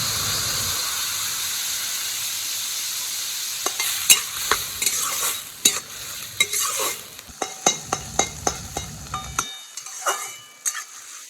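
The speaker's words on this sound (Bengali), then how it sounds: "মিনিট 4-5 কিরম ভাজবো, বেশিক্ষণ না" Snails fry with turmeric and salt in a pan, giving a loud, continuous sizzle with steamy hiss, then a quick series of sharp stirring scrapes and knocks as the sizzle fades.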